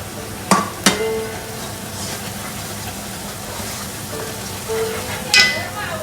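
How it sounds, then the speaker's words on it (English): Spice powders, masala and haldi, being stirred into a pan over low heat, with a couple of sharp spoon clinks against the metal and soft scraping amid a quiet background hum. "Give it a good little stir."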